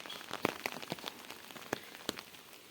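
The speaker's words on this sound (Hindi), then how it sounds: "शाम के टाइम हो रही है बारिश" Steady evening rain in a mountain-area home, pattering continuously with scattered sharper drops striking a surface nearby, no voices.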